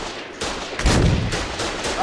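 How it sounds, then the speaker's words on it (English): Rapid bursts of gunfire in the video game Foxhole as a driver shoots at a tank, several loud shots in quick succession with a heavier thump near the middle, dense and close over a noisy battlefield bed. "Oh, the driver is shooting at the fucking tank."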